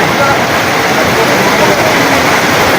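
Heavy monsoon rain in Chhattisgarh pours down as a loud, dense, unbroken hiss of drops striking surfaces close by.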